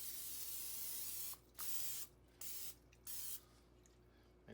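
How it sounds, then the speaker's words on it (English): Close, hissing bursts from a spray bottle misting the top of a whole chicken being prepped for barbecue with rosemary, a long spray followed by several shorter pulses with quiet gaps. "And again, we're going to spray the top of this."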